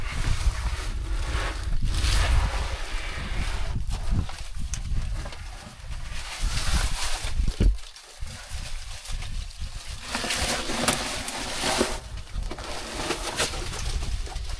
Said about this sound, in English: there's a lot of wind coming out of the cave today.